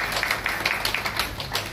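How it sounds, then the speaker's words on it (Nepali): A church congregation at a Christian wedding claps together in a quick, uneven patter of many hands. The sound is short, close and moderately loud, with no voices over it. "ल ताली बजाइदिनु मण्डलीमा"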